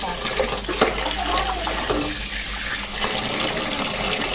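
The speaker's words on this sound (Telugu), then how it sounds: "చేపలు కడిగేసుకున్నాం మళ్ళీ." Running water rinsing fish that were rubbed with salt and turmeric, a steady close splashing flow that continues throughout, with faint background voices.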